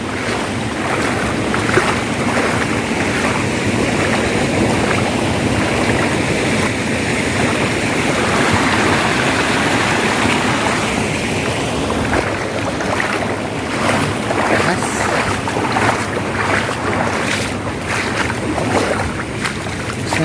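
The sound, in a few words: flowing flood water current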